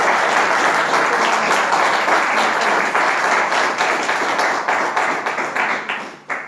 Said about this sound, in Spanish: Saludos con un aplauso, hermano, a todos los que están viendo.